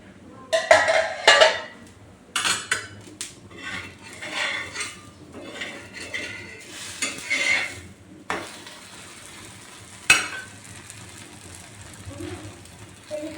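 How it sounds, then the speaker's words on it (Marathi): Dhirde, gram-flour pancakes, cooking on a pan, with repeated scrapes and clinks of a utensil against the pan in short bursts spread irregularly over the clip, close by and moderately loud. "तुम्ही इथं बघू शकता मी कशाप्रकारे धिरडे बनवत आहे"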